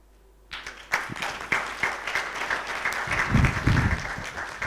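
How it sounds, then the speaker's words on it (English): Audience applause breaks out at a software conference talk, a dense wash of clapping that starts abruptly and swells, holding steady and fairly loud throughout. "The applause is actually not for me, it's for Michelle, who wrote MobX."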